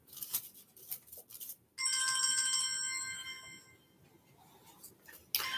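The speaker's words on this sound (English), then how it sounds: "Okay, another phone call." A telephone ringtone from an incoming call plays for a couple of seconds as a bright, steady electronic tone, then fades, with some short tapping and handling noises before it and a sharp sound at the end.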